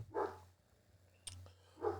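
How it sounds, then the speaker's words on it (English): A dog gives two short, faint barks about two seconds apart, sounding distant over a low electrical hum. "That's my dog up there."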